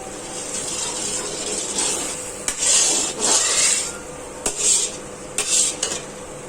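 Green chilies hit a kadai of frying masala paste for fish curry, giving a soft steady sizzle broken by scraping stirs and a few clinks of a metal spoon against the pan.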